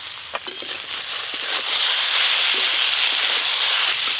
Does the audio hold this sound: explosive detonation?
no